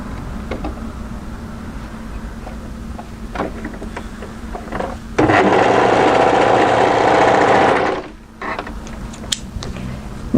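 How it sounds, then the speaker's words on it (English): An overlocker sews a short seam on a folded fabric band for a pleated maxi wrap dress. Small clicks and creaks lead into a loud, steady whirring burst of about three seconds that stops abruptly, followed by more faint handling noises. "fold it right sides together and just overlock that short area there"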